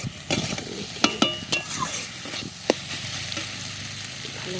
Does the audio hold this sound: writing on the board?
no